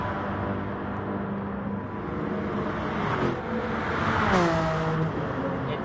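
A race car in a sim racing game at Monza roars past with a steady engine drone, its pitch climbing and then dropping as it goes by. No one talks.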